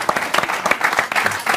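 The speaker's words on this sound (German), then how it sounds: "Danke, Applaus für die geile Band hier." An audience applauds the band at a live comedy show, many hands clapping in a lively, fairly close burst with loud individual claps standing out.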